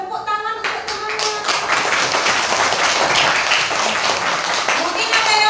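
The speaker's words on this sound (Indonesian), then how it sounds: "Tepuk tangan untuk temannya." Young classmates clap for a student who answered a question correctly during a lesson. Scattered claps build into lively group clapping, with voices talking and calling out throughout.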